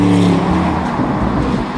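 A Porsche Panamera Turbo S drives along the road, its engine giving a steady close whirring hum with a brief surge of acceleration.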